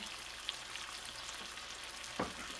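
Pheasant back mushrooms fry softly in a pan, giving a faint, even sizzle with one brief clatter near the end.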